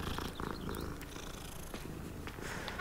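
A cat purrs in the Hogwarts Legacy video game, a steady close rumbling purr lasting a few seconds alongside faint game ambience and small clicks, with no talking.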